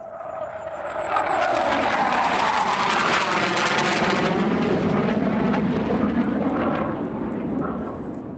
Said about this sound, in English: a plane is going to start to pass again